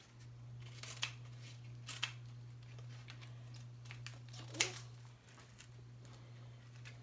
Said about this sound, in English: Better get our kitchen scissors to separate that.